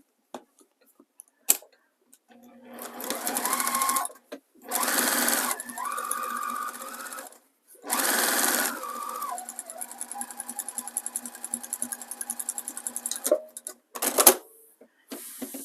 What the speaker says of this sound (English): now I'm just going to pick up stitching where I left off, and we're going to close that gap and stitch to the other side